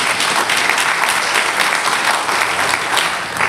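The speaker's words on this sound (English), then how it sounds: "Let's give him a cheer." A church congregation cheers and applauds at a pastor's birthday celebration, a dense, loud and continuous wash of clapping that fills the whole stretch with little voice above it.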